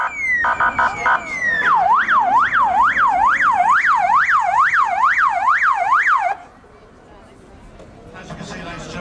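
Police cars at an emergency services demonstration at Brooklands blare a loud wailing siren that sweeps rapidly up and down in a steady pattern, then cuts off abruptly, leaving a quieter crowd murmur.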